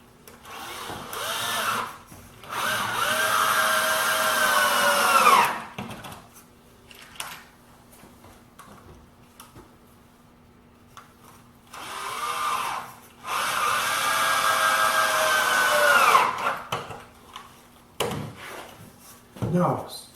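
A power drill drives two-inch deck screws into wooden planter legs in two long, close whining bursts, each rising in pitch as the screw seats, separated by quieter handling clatter.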